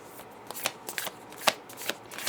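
Playing cards shuffled and drawn by hand, a run of soft crisp riffling flicks and snaps at irregular intervals, close and fairly quiet with no talk.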